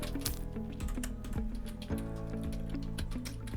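Typing on a computer keyboard, a rapid series of close, clicky key taps with irregular rhythm, playing over a steady background tone with no talk.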